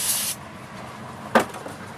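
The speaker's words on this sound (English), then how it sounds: "Get a little bit of brake cleaner here. Do some spraying on a rag." A short hissing spray of brake cleaner onto a rag up close at the start, then quiet with a brief rubbing scuff later, during valve cover work on a 2011 Nissan Altima 2.5.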